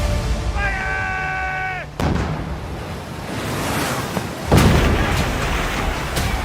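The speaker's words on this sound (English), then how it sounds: "cannons and muskets being fired at close range" Cannons and muskets fire at close range in a naval battle: a held musical tone gives way to heavy booms, with a loud blast near the start and another later over rumbling ocean-like noise.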